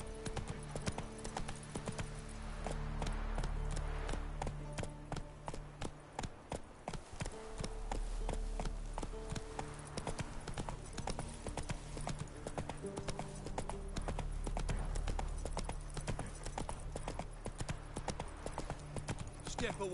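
The horse Roach gallops in The Witcher 3 video game, hooves clip-clopping in a fast, steady rhythm that swells and eases, with talk heard under the hoofbeats.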